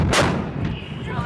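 U.S. Marines artillery gun fires during live training, a single loud booming blast with a sharp onset followed by rolling rumble and echo that fills the rest of the moment.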